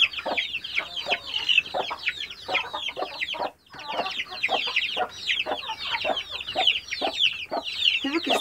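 A flock of chickens with chicks clucks and peeps in dense overlapping bursts that continue throughout, close and lively, with a brief pause partway.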